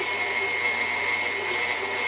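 An electric mixer whirs at a higher speed while blending white chocolate macadamia nut cookie dough, giving a constant motor hum with a sharp tonal whine that holds steady for a couple of seconds.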